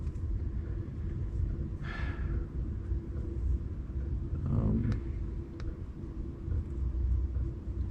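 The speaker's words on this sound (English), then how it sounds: "I like the traffic and the noise and watching the cars go by" Road traffic outside a small truck living space: a continuous low rumble of passing cars, with a couple of vehicles swelling and fading by at moderate distance.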